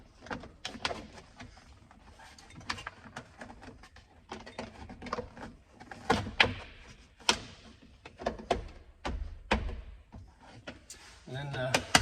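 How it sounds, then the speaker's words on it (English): Interior kick panel on a 1978 Trans Am being slid and pushed into place past wires and hoses, with close scraping, plastic rubbing and knocking, interspersed with brief talk. "the kick panel mostly just slides in"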